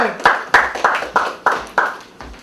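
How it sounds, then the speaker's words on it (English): An audience applauds poet Hero 44 at a live stage show, about seven distinct loud claps in a steady, evenly spaced rhythm, close and crisp with no voices. "let's give him a round of applause"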